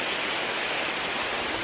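Heavy typhoon rain pours steadily as a dense, close wash of noise with no pauses, the downpour from Typhoon Kristine heard alone and loud.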